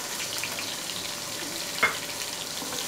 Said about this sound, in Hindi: एक दो सेकंड ज़ीरे को आपने फ्राई करना है